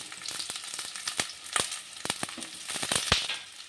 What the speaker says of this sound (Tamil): பெரிய வெங்காயத்தை தான் நான் வதக்குறேன்